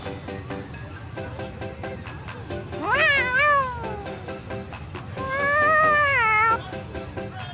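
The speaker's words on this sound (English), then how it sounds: "Look who made a new kitty friend." Two drawn-out cat meows from the video game Tales of Xillia 2, each rising and then falling, loud and close over steady background game music, with no voices heard.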